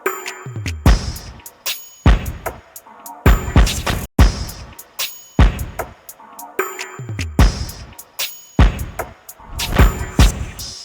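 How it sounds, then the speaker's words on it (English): A percussion loop fills out the drums of a drill beat, with sharp repeated hits and clicky accents cycling in a tight, syncopated pattern, loud and up front with no voice over it. "we got a perk loop to fill out the rest of the drums"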